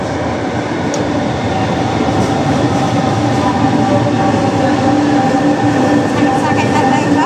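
Ride aboard an LRT train heading toward EDSA, a loud, continuous rumble of rolling wheels and car noise with a faint squeal, heard from inside the carriage.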